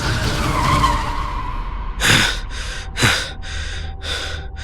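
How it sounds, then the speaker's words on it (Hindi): A car skids to a sudden stop with a loud tire screech, followed by several short sharp bursts and breathy gasps in a dramatized audio scene. "तुरंत गाड़ी रोक दी"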